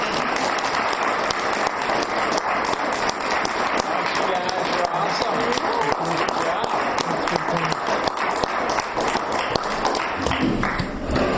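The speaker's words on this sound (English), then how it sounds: "Let's give them a big round of applause." A school board forum crowd applauds in a dense, even patter that runs throughout, while a nearby voice briefly speaks thanks and praise over the clapping.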